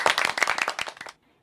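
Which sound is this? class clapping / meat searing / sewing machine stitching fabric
class clapping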